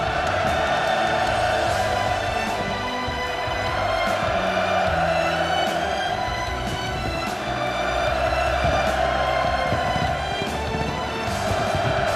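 Large crowd at an inauguration ceremony for 10,000 new flats in Pyongyang's Hwasong district, roaring hurrahs and cheering in a steady, dense wall of voices that persists throughout.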